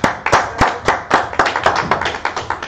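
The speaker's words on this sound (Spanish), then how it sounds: "vamos a darles un aplauso." Small group clapping at a health and movement talk, a few dozen uneven claps close by, sparse and irregular rather than a dense roar, fading after about three seconds.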